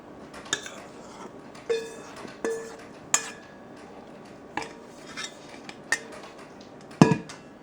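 Four cups of wheat flour being stirred into wet ingredients in a bowl for homemade honey oat wheat bread: a string of about seven sharp, separate clinks of a utensil against the bowl, evenly spaced and fairly close, with no talking.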